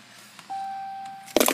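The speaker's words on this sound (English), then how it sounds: "You put your foot on the brake and you start the car." A Dodge Charger with push-button start gives a sustained electronic chime tone, then the engine fires with a sudden loud burst at the very end, close by in a quiet cabin.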